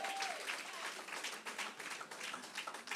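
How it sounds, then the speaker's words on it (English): Steady applause from a crowd, dense continuous clapping that holds at an even level throughout. "Give her another round of applause, please."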